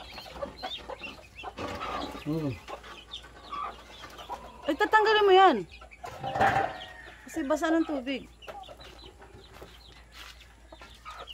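A native mother hen and her chicks cluck and peep in short, irregular bursts close by, mixed with people chatting in the background.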